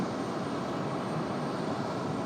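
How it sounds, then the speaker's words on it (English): A JetBlue airliner moving at Raleigh-Durham airport, its engines giving off a steady broad roar at a distance with no breaks. "Got another JetBlue on the move in their new livery."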